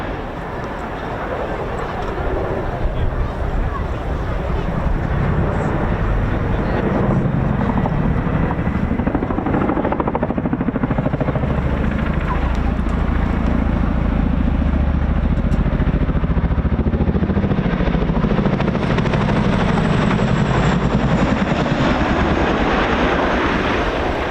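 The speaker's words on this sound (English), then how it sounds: "So with a bit of a flourish, the CHINOOK repositions" A Chinook helicopter repositions at the RAF Cosford Air Show 2025, its loud, deep rotor thudding and engine roar sustained throughout, swelling and shifting as it moves.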